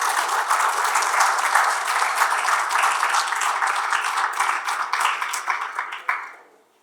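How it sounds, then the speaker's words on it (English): An audience at a 40th-anniversary celebration at Araluen gives a warm, sustained round of applause, dense and steady before fading out over the last second. "So why don't we give Stephen a round of applause."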